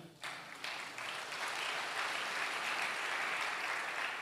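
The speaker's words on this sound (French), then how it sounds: "acclamez pour vous-même" A church congregation at a sermon breaks into applause, sparse claps at first swelling quickly into dense, sustained clapping that fills the room, loud and unbroken with no talking over it.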